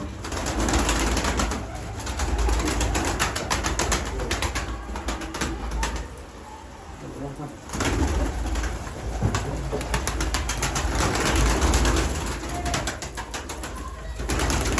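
Mardin tumbler pigeons coo repeatedly amid a constant loud background hiss and rustle, with the cooing and bird noise continuing almost throughout and dipping briefly midway.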